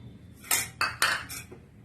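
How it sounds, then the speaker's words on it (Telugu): Gram flour mixed into buttermilk in a bowl, four or five quick clinking strokes of a utensil against the bowl, close and clear, with no talk. "ఇప్పుడు ఇందులో ఏం చేయాలంటే శనగపిండి ఇది కలిపేయాలి"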